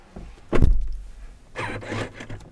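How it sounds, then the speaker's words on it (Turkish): Car door of a Turkish domestic car, one sharp thud of it closing followed by a softer rustle and click as it opens, near and loud. "Bir kapıyı kapatıp açmak istiyorum."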